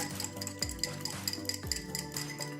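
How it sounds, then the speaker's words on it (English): A mustard, oregano and lemon juice vinaigrette being stirred in a bowl, with quick repeated scraping and clinking strokes of a utensil, close and steady, with no talking. "so we're just going to stir it"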